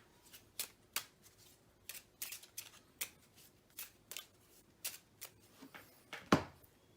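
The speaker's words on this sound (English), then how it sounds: "This is going to get shuffled back into the deck." Game cards shuffled back into a deck during a Lord of the Rings card game, a series of short crisp riffling bursts at a steady rhythm, close and quiet, ending with a louder snap.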